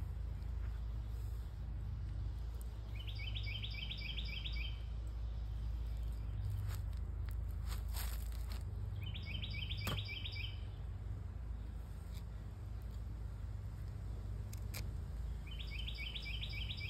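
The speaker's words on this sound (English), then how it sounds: "The birds sound so lovely today." Birds chirp in repeated rapid trills at regular intervals, fairly distant, over a steady low rumble of background noise.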